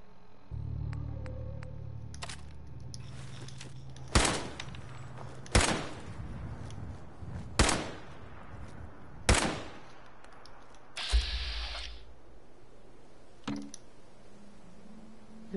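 Around five sharp single gunshots ring out at spaced intervals in Fallout 4, each cracking loudly over a quiet background of faint clicks and low ambient hum.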